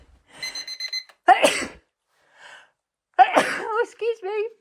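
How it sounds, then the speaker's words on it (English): A sneeze, probably set off by dust while cleaning at home, comes in two close, loud bursts with a quieter sound between them, and a speaking voice can be heard around them. "Oh, I think I'm going to sneeze."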